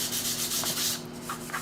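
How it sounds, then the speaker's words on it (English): Hand sanding of varnish on a wooden sign gives a close, steady scratchy rubbing in repeated strokes, easing off near the end, over a low electrical hum. "I need a little more sanding here."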